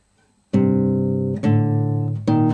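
Three sustained, resonant guitar tones from the God of War main theme, fingerstyle, ring out one after another, each struck cleanly and left to sustain, with no voices present.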